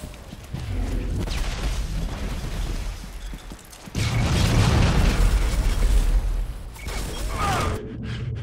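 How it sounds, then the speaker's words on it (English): Grenade blast in Turok multiplayer, a heavy booming explosion erupting midway and rumbling for a few seconds amid game noise, with brief voice nearby. "Freaking grenade!"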